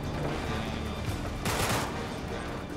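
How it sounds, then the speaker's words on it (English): Pistol gunfire in the Uncharted 3 video game: a brief burst of sharp shots under dense in-game noise and a faint voice, fairly muted overall. "Just use your pistol."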